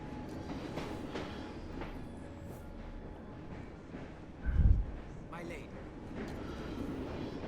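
A train rolls along steadily in a video game, a continuous rumbling clatter with a brief louder thump midway, while a voice talks over it throughout.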